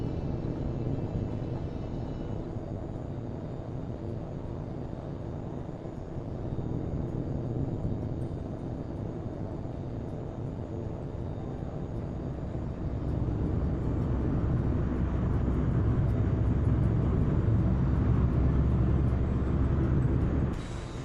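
Fighter jet taking off in Tom Clancy's HAWX 2: a steady engine roar and rush of air that swells louder about halfway through and holds at full power.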